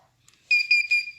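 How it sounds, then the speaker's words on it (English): A sewing machine in adjustment mode gives a high-pitched electronic beep three times in quick pulses, close and fairly loud, after a brief quiet moment. "when you hear it beep 3 times, you know that that adjustment has been made."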